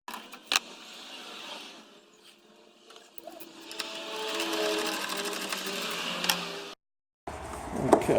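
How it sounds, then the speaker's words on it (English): Electric screwdriver or driver whirring as it unscrews T30 Torx bolts from a headlight panel on a Ford, a steady close motor buzz with a few clicks, cutting out briefly near the end before resuming. "we take off the two T30 bolts"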